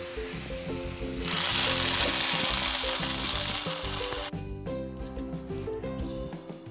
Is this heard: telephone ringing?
no